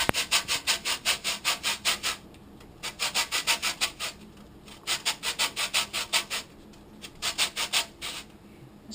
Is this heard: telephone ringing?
no